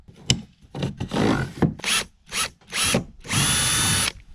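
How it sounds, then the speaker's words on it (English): Power drill boring holes with a 3/16 drill bit into a kayak hull during a rudder install, in a series of short bursts that whir up and stop, the last one longest and steady, close by with no talk. "with your 3/16 drill bit, put a hole"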